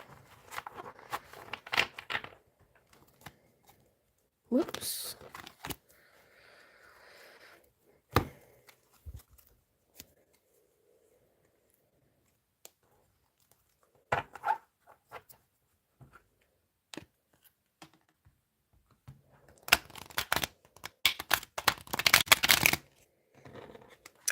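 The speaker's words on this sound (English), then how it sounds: "One more shuffle." Tarot cards are shuffled in short, crisp riffling bursts separated by quiet pauses, close and fairly soft, with a brief spoken exclamation.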